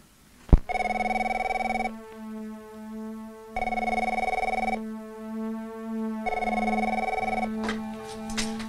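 A telephone rings in a horror video game, three long electronic bell tones with pauses between them, preceded by a sharp click and followed by a brief rattle at the end.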